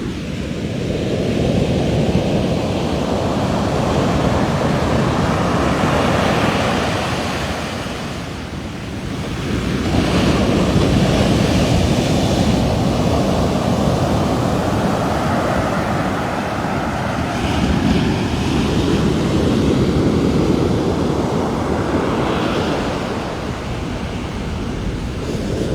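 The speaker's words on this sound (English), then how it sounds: "I'll just let you hear the waves for a minute." Ocean surf rolling onto a long beach at Tavira, a steady broadband wash of breaking waves swelling and easing in long cycles, with wind buffeting the microphone throughout and no voices.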